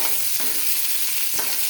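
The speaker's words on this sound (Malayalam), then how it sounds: "കടുക് വറക്കാൻ ഉള്ളി അരിഞ്ഞത് ഇട്ട് കൊടുത്തു" Chopped onion crackles with mustard seeds in hot oil for tempering, a dense loud close sizzle running steadily with a couple of stirring scrapes and no talk.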